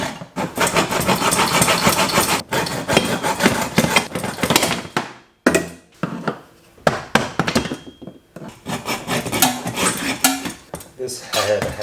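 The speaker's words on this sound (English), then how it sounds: "I'm just cutting right into the bolt as close to it as I can" A cutting tool bites into a stuck bolt on a John Deere Gator, a loud harsh metallic grinding that runs in long bursts, breaking off briefly and restarting, close and dominant.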